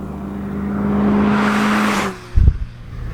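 A 2019 Mazda MX-5 Miata RF engine revs up toward its 7,500 RPM redline in a rising, strained howl, then cuts off sharply with a brief thump and rumble as the revs drop.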